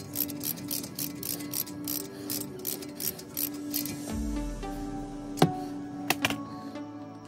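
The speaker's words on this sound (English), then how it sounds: "it's that 7 millimeter hex socket that we're using here. So crank those down" Ratchet with a 7 mm hex socket tightening brake caliper guide pins on a Volkswagen Passat front brake, giving rapid, fairly faint mechanical clicking for several seconds, then a few sharper isolated clicks.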